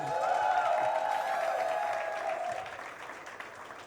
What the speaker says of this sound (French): Prouvez-lui ça, s'il vous plaît, par des applaudissements